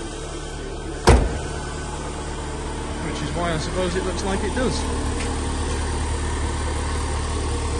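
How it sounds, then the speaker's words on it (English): A 2003 MG TF 135 starts with a sharp crank catch, then settles into a steady, close idle that runs alone after a brief stretch of talk over it. "Just start it up so you guys can hear it run."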